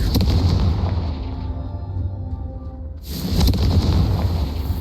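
Confringo spell explosions in the video game Hogwarts Legacy, loud booming blasts with a sustained rumble, a sudden drop to quieter ringing tones, then another sharp burst and roaring tail.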